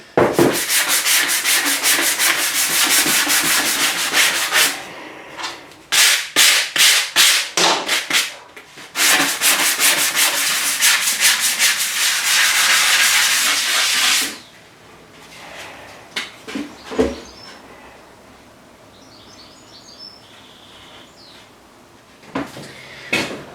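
Steady abrasive sanding strokes rub down the surface of a car seat in a garage fighter build, loud and close, with long continuous passes broken by quick rhythmic strokes, then quieter intermittent rubbing toward the end.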